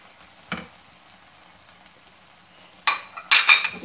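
A spoon scraping and stirring goat brain masala with garam masala in a pan, a single clack followed by a quiet pause and then a cluster of close scraping and clinking strokes with a faint sizzle.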